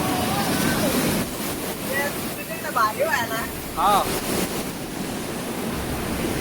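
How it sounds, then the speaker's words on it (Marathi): Strongly flowing river water beside a Mahadev temple, a loud steady rushing roar with wind buffeting the microphone, while people talk briefly over it. "ते आता जाता नाही लय जोराचं पाणी चालू आहे"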